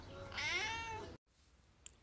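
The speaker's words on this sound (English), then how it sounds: "Cat." A cat gives one long, loud drawn-out meow up close, then it cuts off to quiet room tone with a faint click.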